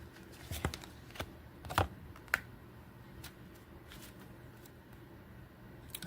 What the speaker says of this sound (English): we're going to start out by laying out two of these Lenormand decks